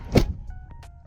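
A rear door on a 2021 Toyota Tundra SR5 TRD Off Road crew cab swings shut with one close, dull thunk from inside the cab, followed by faint quiet clicks and hum.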